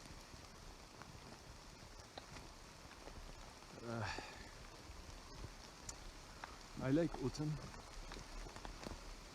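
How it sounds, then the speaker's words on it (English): Rain falling steadily on a deciduous forest, a soft continuous patter close around the listener, with a person talking briefly over it. "It's raining a lot"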